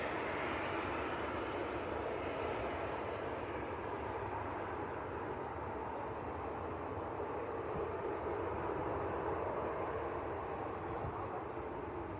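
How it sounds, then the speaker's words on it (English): A Ryanair airliner pushes back at Leeds Bradford Airport, its distant engines making a steady, even broadband roar that holds unchanged throughout with no voices. "The other Ryanair's pushed back as well."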